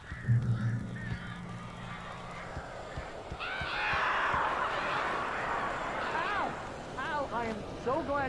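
Crows caw in the Alan Wake Remastered video game, harsh repeated calls rising over a busy, noisy backdrop, with a few fainter cries near the end.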